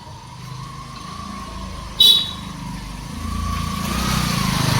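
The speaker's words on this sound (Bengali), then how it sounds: "বাইক আসছে, হাত ধর।" A motorbike engine hums on a road, growing steadily louder as it approaches, with a brief sharp beep partway through.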